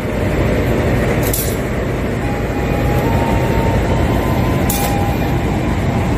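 Local Cepu train stands ready for departure at Surabaya Pasar Turi station, a continuous low rumbling engine drone filling the platform, with two brief hissing bursts and faint tonal squeals over the steady hum.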